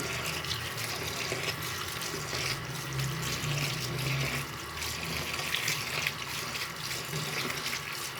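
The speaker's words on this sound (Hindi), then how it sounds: "ठंडा पानी सारी मैक्रोनी पे।" Cold tap water pours steadily over cooked macaroni in a kitchen sink, a continuous rushing, splashing stream that stays even and fairly close throughout with no talking.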